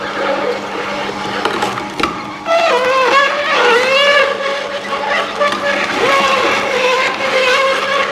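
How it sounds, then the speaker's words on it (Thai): A motorized slow juicer grinds and crushes hard beetroot pieces, with creaking, squealing tones and a steady hiss, close and fairly loud. "เสียงการบดคั้นนะครับ"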